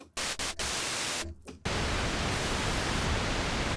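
Pink noise from a Minimoog Model D synthesizer, a steady broadband hiss that cuts in and out in short bursts at first and then holds continuously, with no voices over it.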